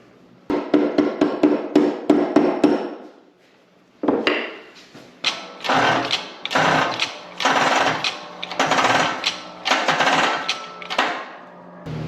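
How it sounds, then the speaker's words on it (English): New pinion retainer plate bolts being tightened on a RZR Pro XP gearbox, with a power tool running in a rapid series of short, loud, buzzing bursts, a brief pause, then longer steady runs up close. "So dude's just tightening the new pinion retainer plate down"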